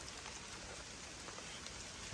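Steady, dense rain falls evenly throughout, a constant close hiss of drops on surfaces with no voices and no breaks.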